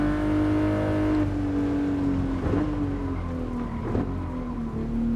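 A race car engine in Gran Turismo Sport holds a loud, steady, buzzing drone near the listener, its pitch easing down slightly, with faint tyre and road noise underneath.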